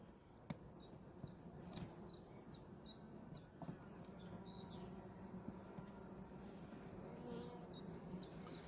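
A mass of honeybees hangs under the frame bars of a hive at an isolated forest apiary, a continuous low buzzing drone. Birdsong and a few sharp knocks sound over it.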